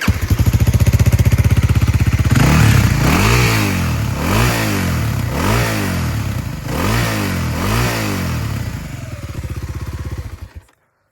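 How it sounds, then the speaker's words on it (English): A 2025 Kawasaki KLX 300R dirt bike engine cranks with an electric starter, then fires and idles loudly with rhythmic revs and pulses before shutting off near the end. "So I'll start the bike up now."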